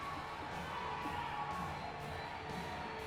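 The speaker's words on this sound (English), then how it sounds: "we have a Brazilian on stage, if you didn't guess by the noise of the crowd" Crowd in the Rio Centro Pavilion 2 arena at a Paralympic women's 67 kg powerlifting event cheering for a Brazilian lifter, a dense, continuous roar of shouts and whoops at moderate distance.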